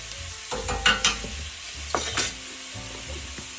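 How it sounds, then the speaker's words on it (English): Three tablespoons of minced garlic hit a hot skillet in a one-pot ham and pasta dish, sizzling steadily while a utensil stirs and scrapes the pan in a few sharp bursts. "Okay, add our garlic. We're going to go with 3 tablespoons."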